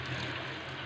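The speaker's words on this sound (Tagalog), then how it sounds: "At nagana na rin yung gripo niya." A newly installed faucet in a small washroom runs steadily, giving a close, continuous hiss of flowing water with no breaks and no voices.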